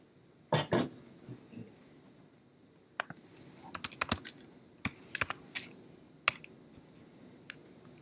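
Computer keyboard typing in short quiet bursts of a few keystrokes each, separated by pauses, with a cough or throat clear near the start.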